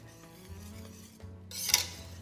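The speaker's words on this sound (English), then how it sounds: "We'll whisk that in." Whisking cheese into a Mornay sauce in a pot for baked mac and cheese, a soft scraping stir with light metal clinks of the whisk against the pan, brief and quiet.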